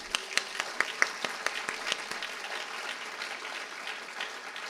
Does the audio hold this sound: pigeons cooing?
no